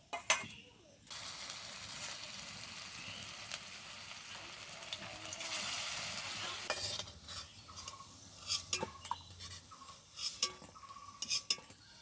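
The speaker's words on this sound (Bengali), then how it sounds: "এবার বাকি কোপ্তাগুলো ওই একইভাবে ভেজে নেব।" Raw banana koftas fry in hot oil with a steady sizzle through most of the clip, broken by intermittent clinks and scrapes of a utensil in the pan. The sound is close but fairly quiet, with no one speaking.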